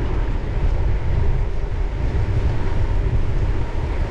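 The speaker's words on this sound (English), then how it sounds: "It's windy." Steady wind buffets and rumbles continuously outdoors on Southbourne Grove, a low roaring rush with no voices.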